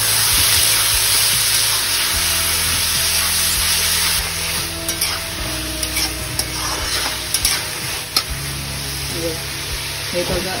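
Onion and tomato stirred and fried in a pan for a tiffin vegetable dish, a loud continuous sizzle with scattered spoon scrapes and clinks throughout, no talking.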